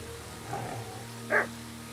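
A dog in the video game Kingdom Come: Deliverance 2 lets out a single short bark, preceded by a softer yip-like sound, over a steady quiet background hum.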